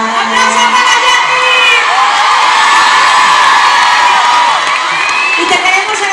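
A live crowd at a concert cheers and whoops loudly, a dense, sustained roar of shouting voices close by for several seconds.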